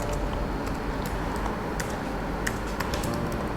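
Rapid computer keyboard typing while code is entered, a steady run of light, close clicks and taps with no voices.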